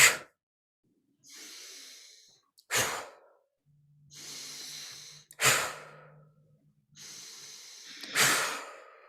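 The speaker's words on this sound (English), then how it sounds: "we're going to take in a big inhale, and then we're going to puff out our exhale very quickly" Bellows breathing exercise with three cycles. Each cycle is a long hissing inhale followed by a sharp, quick puffed exhale, all close and breathy with silence between breaths and no speech.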